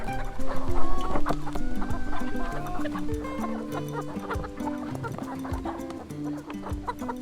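Free-range laying hens cluck and squawk as they are herded toward a net and caught one at a time. The close, overlapping clucks rise and fall in agitated bursts, with occasional louder cries over a busy farmyard background.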